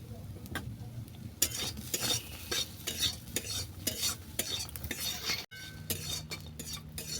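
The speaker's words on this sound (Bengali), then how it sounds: "সয়াবিনগুলো আমার বাদামি করে ভাজা হয়ে গেছে" Soybeans fry in oil in a pan while a spatula stirs and scrapes them. The sizzling sits close, with repeated metallic clinks and scrapes in an uneven rhythm and one brief dropout.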